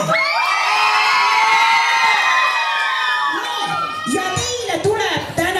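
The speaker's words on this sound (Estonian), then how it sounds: "Kisame nii kõvasti, kui saame." Children at a school playback show shout and cheer loudly together, a dense high-pitched crowd roar that holds steady and then breaks into scattered whoops and calls.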